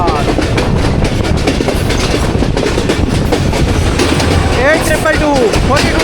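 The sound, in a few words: 40 DN train with HM 30R locomotive, Pakistan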